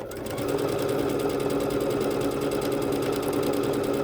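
A Bernette B-77 embroidery machine stitches out a design with a fast, steady mechanical whir and rapid needle ticking, loud and continuous throughout.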